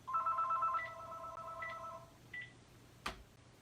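A phone rings with an incoming call: a bright electronic ringtone plays loudly for a moment, followed by a few shorter, fainter tone bursts and a sharp click near the end.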